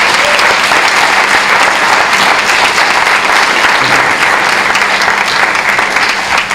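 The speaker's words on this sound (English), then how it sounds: "another great round of applause for Mr." Audience applause for Mr. Polanski at a gathering, a sustained close burst of clapping filling the whole stretch at even intensity.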